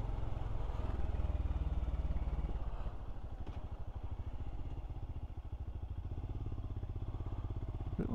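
A Royal Enfield Scram motorcycle engine runs steadily on a ride through Welsh lakes and mountains, a close, rhythmic thumping exhaust note that holds and shifts pitch slightly over several seconds with no talk.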